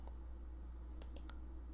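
A computer mouse clicks while working in Inkscape: a few quick, faint, crisp clicks bunched together over a constant low electrical hum.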